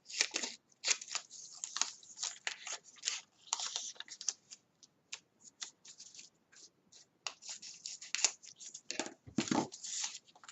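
Paper being trimmed straight with scissors while assembling a handmade newborn gift box, a close series of quick snips and crisp paper rustles in uneven bursts, no talking.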